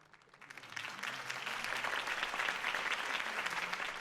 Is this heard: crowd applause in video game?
yes